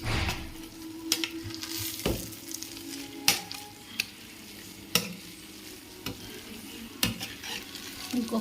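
Chicken biryani with lemon is stirred in a pot, with sharp metal scrapes and knocks every second or so over a low background sizzle, nearby and with no talking.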